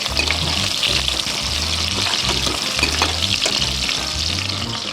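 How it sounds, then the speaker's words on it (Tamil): Onions sautéing in oil in a pan while a Kongu-style rice and lentil dish is cooked, giving a steady, close sizzle and crackle with occasional stirring scrapes and no talking. "வெங்காயம் சேர்த்துக்கலாம். வெங்காயம் கொஞ்சம் வதங்கிட்டு"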